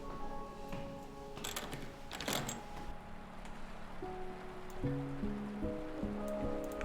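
Rain falls steadily in a soft, continuous patter, with a few sharper splashes early on and faint tonal sounds layered over it.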